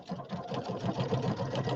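A quilting machine stitches through a quilt with a steady, fast mechanical whir. The pulsing motor hum holds close and even for the whole stretch, with no voices.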